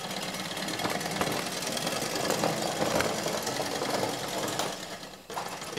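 A 1972 Mamod SR1a toy steam roller runs with a steady, busy mechanical chatter and rapid rhythmic chuffing, loud and close throughout, with a brief dip near the end.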